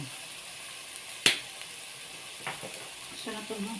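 Baguio beans and ground meat are stir-fried in a pan, with a soft continuous sizzle, one sharp clink of a utensil near the start and faint scraping stirs afterward.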